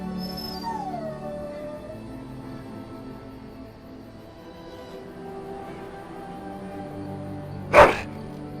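A dog in the video game Dragon Age Origins gives a drawn-out howl that slides downward, then a single sharp bark near the end over quiet game ambience.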